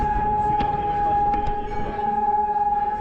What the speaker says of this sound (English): It's like a siren for war or something.